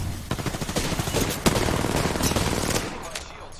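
Rapid gunfire from an Apex Legends-style shooter, sustained bursts hitting the player at close range, loud and dense throughout with a sharper impact partway through and no talk.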